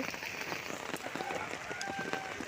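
Heavy rain pours down in a steady, dense patter over a village, a continuous soft hiss of drops with no break.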